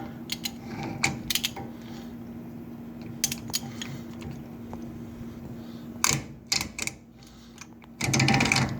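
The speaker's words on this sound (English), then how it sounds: "it kind of makes like a clicking, ratcheting sound when you back it out or tighten it" A nut is backed off the rear wheel hub of a 1999–2004 Ford F-250 Super Duty 4x4, giving sharp close clicks and ratcheting bursts scattered irregularly over a faint steady hum.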